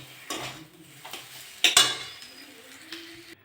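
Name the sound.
pan of filling for kakrol chop being taken off the stove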